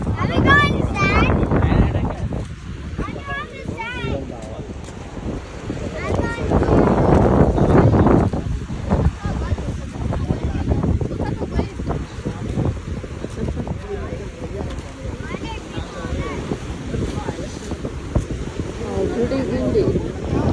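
Strong wind gusting at an Atlantic Ocean shore under a stormy sky, a steady loud roar buffeting the microphone throughout, with people talking over it.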